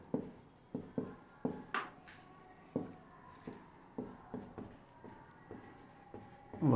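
Chalk or marker strokes on a classroom board, each a short scratchy tap at a slow irregular rhythm, soft and close in a quiet room, with no speech.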